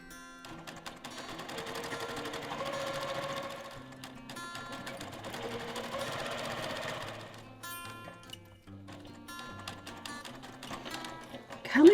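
Sewing machine stitching a fabric candy-corn coaster, pausing as the presser foot is lifted and the piece turned at the corners; steady close mechanical whirring in bursts separated by brief quiet gaps, with no talk.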